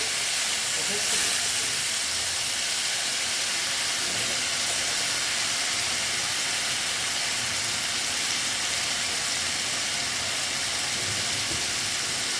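Oil and a little water added to frying pointed gourd in a pan give a steady, close, broadband sizzle and hiss that holds evenly throughout, with faint talk underneath.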